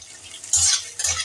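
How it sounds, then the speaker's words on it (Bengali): Chopped onion frying in oil over a low-to-medium gas flame, with a soft background sizzle broken by two close bursts of scraping as a spatula stirs the pan, and no talking. "এবার পেঁয়াজটাকে একটু লাল করে ভাজা করে নিতে হবে।"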